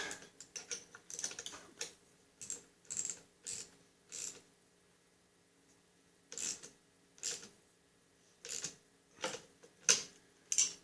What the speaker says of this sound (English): Grab me a wrench. Okay, we'll tighten this up.